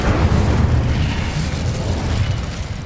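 Incendio fire spell cast in Hogwarts Legacy, a loud, booming burst of flame that hits hard at the start and then rumbles and fades over a couple of seconds.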